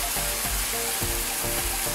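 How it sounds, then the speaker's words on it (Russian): Onion and pork brisket fry in a pan, giving a steady, close crackling sizzle throughout with faint clinks of stirring and no talk. "А здесь в сковородочке уже поджаривается лук с грудиночкой."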